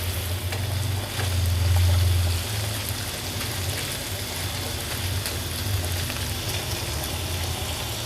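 Chicken tikka boti pieces fry in a pan over low heat, giving a steady, close crackling sizzle with bursts of spitting that swell briefly early on, with no voices.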